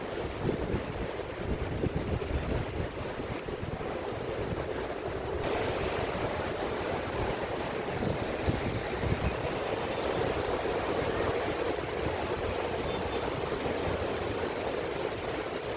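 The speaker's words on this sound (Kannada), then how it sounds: "ತುಂಗಭದ್ರಾ ನದಿ ಈ ರೀತಿ ಹೋಗುತ್ತೆ" The Tungabhadra River at Harihar, Karnataka, rushes in a constant broad roar, with buffeting wind noise and no voices.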